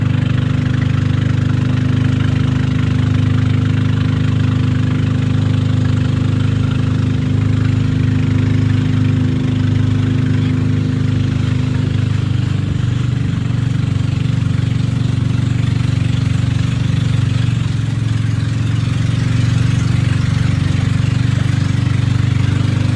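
A boat's engine on a Sohoton Cove tour in Siargao chugs steadily and loudly for the whole stretch, a low, knocking drone with a slight shift in pitch partway through and no talk.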